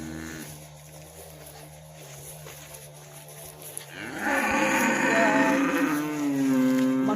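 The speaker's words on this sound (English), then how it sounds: "So this is basically our cow shed." Cattle in a farm cow shed in an African village, a long loud moo rising after a quieter stretch of low engine-like hum, with a second call trailing at the end.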